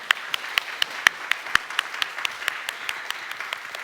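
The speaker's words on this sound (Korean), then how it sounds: "우리 힘차게 감사의 박수 하시겠습니다" A church congregation at a Korean Sunday service claps in thanks for the elders, a rhythmic run of sharp, fairly close handclaps that gradually thins and softens.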